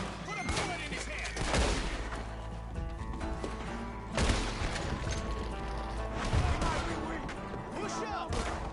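Heavy gunfire rings out in a Red Dead Redemption II shootout, with repeated loud shots and several sharp bursts standing out over a busy, continuous battle din. Voices are faintly present.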